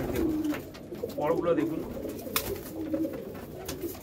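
Domestic pigeons cooing nearby in a loft, soft repeated low coos layered under someone talking close to the listener.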